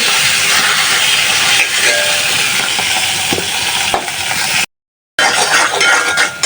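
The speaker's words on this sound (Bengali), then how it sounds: "মশলাটা ভালোভাবে কষায় নিচ্ছি" Spice paste sizzling and frying in hot oil for a Bengali catfish and taro curry, a loud continuous hiss and crackle with occasional utensil clinks, close up, with a brief dropout near the end.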